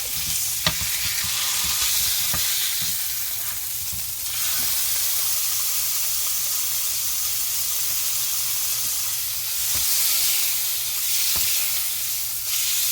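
A Jamaican jerk T-bone steak fries in a hot pan, giving a continuous close sizzle and hiss that swells and eases, with a few sharp clicks and scrapes of a spatula and no talking.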